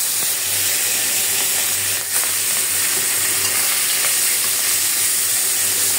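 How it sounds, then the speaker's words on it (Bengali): Small puti fish coated in turmeric and salt sizzle steadily in hot oil, a bright continuous crackle and hiss close up, with a faint low hum beneath. "মাছটা একটু ভেজে নিব।"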